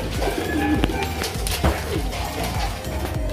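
Racing pigeons coo in a loud, close chorus of repeated low throaty calls, with wing flutters and loft clatter mixed in throughout.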